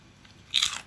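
A single crisp, loud bite into crispy deep-fried pork intestines with fried garlic, one short crunch close to the ear after a quiet moment.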